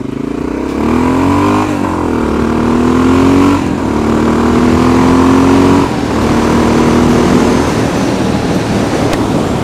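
A motorcycle engine revs hard at full throttle and climbs in pitch, holding a loud steady drone as it accelerates, with rushing road and wind noise beneath.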